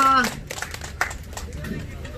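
A small audience at a pumba (gakseori) street performance claps for the performer Eun-nara: scattered, uneven claps under a speaking voice, with a louder burst of clapping near the middle.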